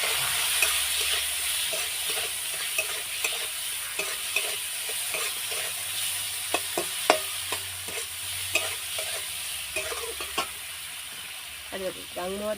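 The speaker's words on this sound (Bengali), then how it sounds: "বেটে রাখা জিরে থাকবে না একটু ভেজে নেব" Ground cumin paste sizzles gently in a hot pan while a spoon scrapes and taps in irregular stirring strokes.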